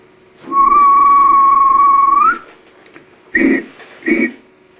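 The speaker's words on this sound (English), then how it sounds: "The guard blew his whistle." A railway guard's whistle gives a long, steady blast for nearly two seconds, followed by two short, sharp toots.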